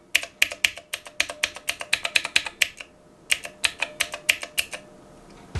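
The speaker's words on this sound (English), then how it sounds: "So this is just a quick test of the keyboard. You can hear the very clicky nature of it" Crisp, clicky keystrokes on the mechanical keyboard of a Ditoo pixel art speaker, in two quick bursts separated by a short pause, close and loud with a sharp snap on each press.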